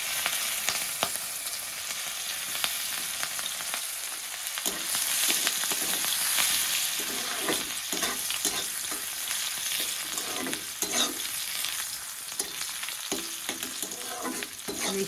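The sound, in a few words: fish frying in oil for fish curry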